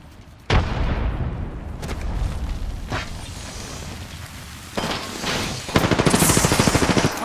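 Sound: grenade explosion and gunfire in the video game Apex Legends

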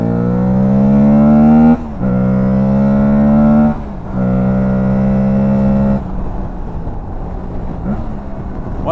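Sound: Aprilia Tuareg 660 motorcycle engine revving on throttle

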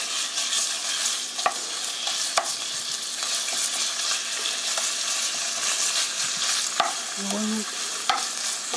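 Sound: stir-frying ground meat in a pan

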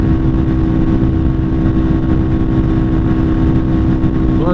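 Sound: Lifan KPR 200 motorcycle engine

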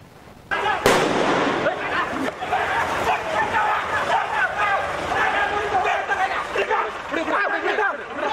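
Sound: bomb-like explosion during police mock drill

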